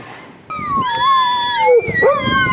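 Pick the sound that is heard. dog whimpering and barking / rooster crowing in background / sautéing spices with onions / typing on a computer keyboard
dog whimpering and barking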